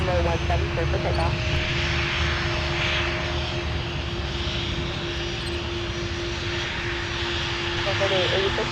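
A Delta airliner's engines roar continuously on its takeoff roll from runway 17 at Minneapolis–Saint Paul airport, loud and sustained with a steady whine, as radio chatter plays over the noise.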